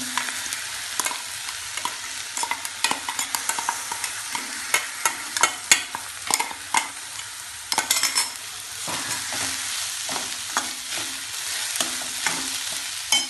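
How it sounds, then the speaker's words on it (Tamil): Prawns and sautéed onions frying in a pan on a stove, a close, steady sizzle broken by frequent sharp scrapes and taps of a spoon as the mixture is stirred, with no voices. "இப்போ நீங்கள் இறாவை போட்டுருங்க."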